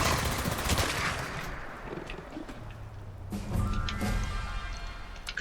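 Gunfire in Fallout 76, with bursts of shots and rumbling impacts across the scene, moderately loud over game ambience.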